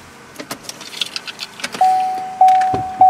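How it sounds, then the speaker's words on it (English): A key jingles and clicks into the ignition of a 2016 Chevy Colorado pickup, followed by a few rapid chimes or beeps as the truck's electronics come on, close and clear with no speech. "let's go ahead and put the key in the ignition for a moment and crank this bad boy up."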